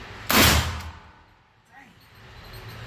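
A single loud, close gunshot cracks out early and then decays, followed by quiet outdoor ambience and faint background noise.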